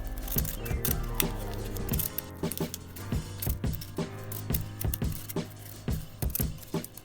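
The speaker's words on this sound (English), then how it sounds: "I'm going to take my scissors and just cut the excess cupcake liner off." Scissors snipping away the excess paper cupcake liner on a pom-pom tree craft, a quick series of close, crisp cuts in uneven bursts with no speech.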